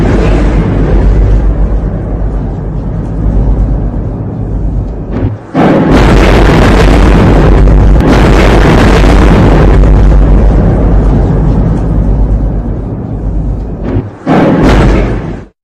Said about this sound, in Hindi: धमाका और धमक कितनी थी